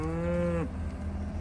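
A heavy cow in a pen of middle-aged long-bred cattle gives one loud, close, drawn-out moo lasting over half a second, followed by steady farmyard background noise.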